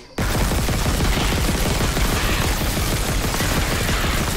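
Sustained, dense automatic gunfire from a weapon in the Dead Space Remake video game, a loud continuous burst of rapid shots filling the whole stretch after a brief quiet start.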